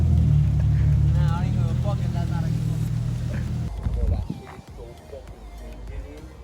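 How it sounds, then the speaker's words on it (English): A tuned Nissan 350Z Nismo engine rumbles loud and close for a few seconds, then drops away, with people talking over it. "Cause it's a loud ass car."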